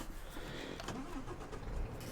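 A truck engine in American Truck Simulator cranks and starts, heard from outside the cab, then settles into a steady low idle rumble that runs alone for about two seconds.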